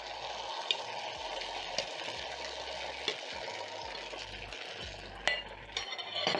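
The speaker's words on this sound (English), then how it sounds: "I'm going to wait for around a minute so that my rice pancake can cook on the bottom side." Rice pancake batter for Swahili vibibi cooks in a hot pan, a soft, steady sizzle with a few scattered taps and clinks of utensils and no voices.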